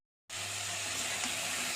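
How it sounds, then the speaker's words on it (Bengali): Spinach frying in a pan sizzles steadily and loudly from a sudden start, a bright, continuous hiss with no talking. "শাক ভাজি, পালং শাক ভাজা।"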